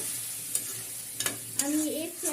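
Bathua greens frying in oil in a wok, a soft steady sizzle broken by a few sharp scraping stirs of a spatula against the pan, quiet and close, with no talk.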